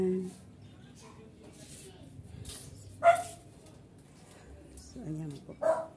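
A dog gives a couple of short, sharp barks in a neighbour's yard at a Filipino family home, heard moderately close between stretches of people talking.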